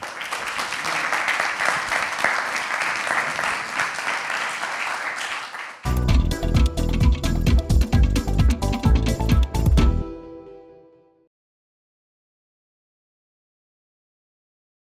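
An audience applauds a welcomed guest, the president of the Société des meilleurs ouvriers de France, with steady clapping for about six seconds before loud rhythmic music takes over and then cuts to silence.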